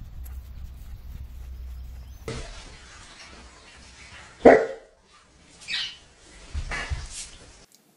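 A terrier mix at a shelter gives a few sharp barks, one louder yelp and a couple of softer barks, close by against a quiet room.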